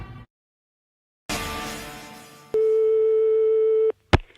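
A landline telephone line sounds while dialing: a hiss of line noise, then a steady single tone lasting over a second, cut off by a click.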